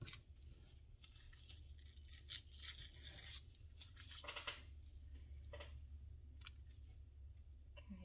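Stiff pattern paper torn by hand in short, crisp rips and rustles, several bursts close up over a low background rumble.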